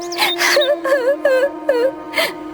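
A woman wails and sobs in a Hindi cartoon, grieving over her mother-in-law. She gives a series of about five rising and falling, tremulous cries, each close and loud, separated by short breaths.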